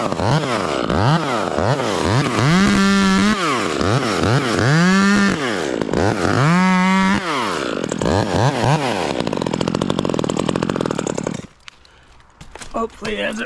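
An Echo 2511 top-handle chainsaw revs hard in repeated rising and falling bursts at a pine tree, loud and close, then drops to a rough idle and cuts out near the end.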